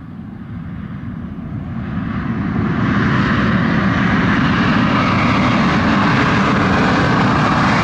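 Airliner at Montego Bay airport, Jamaica, in rain, a loud broadband engine roar that swells and then holds steady and near, with no voices.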